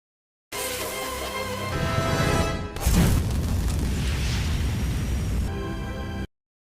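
A firecracker set off by insects in the animated film Minuscule 2 bursts with a loud boom, followed by a sustained roaring rumble over a film score.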